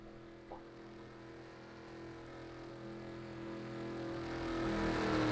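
Race car engines at Talladega in a NASCAR video game drone steadily at a start, several cars layered into a continuous hum that slowly swells louder, with no talking.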